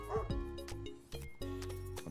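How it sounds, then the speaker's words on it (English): A dog in the Pupperazzi video game gives a few short, close yipping barks that trail into a whimpering whine, loud and clear over faint background sound. "That's a dog."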